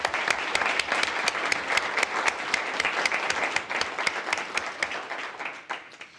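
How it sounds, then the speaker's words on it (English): An audience at a city council meeting applauds retiring fire and paramedic staff with a steady round of clapping that tapers off toward the end. "Perhaps we can give them a round of applause."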